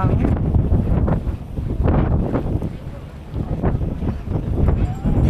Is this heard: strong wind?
yes